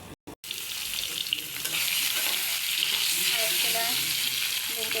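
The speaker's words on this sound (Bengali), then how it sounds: "এখানে ডিমের জন্য পেঁয়াজটা ভুনা করছি, এর মধ্যে ডিম দিয়ে দেব" Onions frying in a pan ahead of adding eggs for egg khichuri give a steady, close sizzle, with a couple of brief stirring scrapes and no talking.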